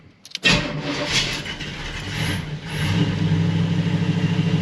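A 1937 Buick street rod with no carburetor choke cranks briefly and fires up, then settles into a rough, close idle with the engine running steadily.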